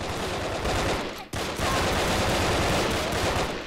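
Sustained heavy gunfire from a large weapon in the blocky shooter game Brick Force, loud and continuous with a brief gap partway through before the barrage resumes.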